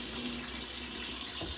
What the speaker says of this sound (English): So I'm gonna use a little warm water on my towel since I prefer the towel.